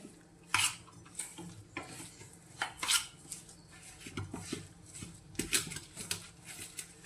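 A spoon stirs homemade gulkand, a rose petal preserve, in a container, giving irregular scraping clinks and soft taps, close and moderately quiet.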